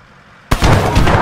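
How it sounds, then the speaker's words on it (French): A frag grenade explodes in the military video game Arma 3, a single sudden loud blast after a quiet moment, followed by a roaring, rumbling tail. "I'm throwing a frag!"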